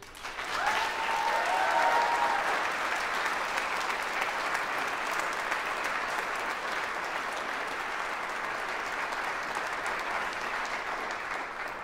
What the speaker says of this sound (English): So a round of applause for the students.